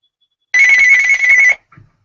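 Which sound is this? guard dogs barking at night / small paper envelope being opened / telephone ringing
telephone ringing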